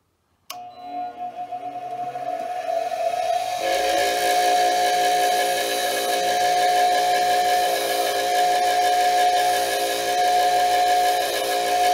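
A diamond grinding wheel is dressed with a dressing stick. A sudden start gives way to a loud, steady, high-pitched whine with a harsh hiss that continues unbroken to the end.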